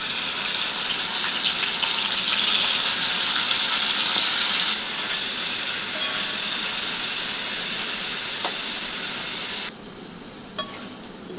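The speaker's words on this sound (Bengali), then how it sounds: "চিংড়ি মাছগুলো ভেজে নেব।" Shrimp sizzling and frying in a pan for a Bengali potol-chingri (pointed gourd with prawn) dish, a steady loud hiss that continues unbroken and drops a little toward the end, with no talking.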